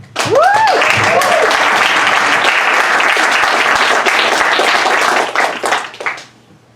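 An audience welcomes two authors onto the stage at a literary reading with loud, sustained applause and clapping, with a few whoops and cheers, tapering off toward the end.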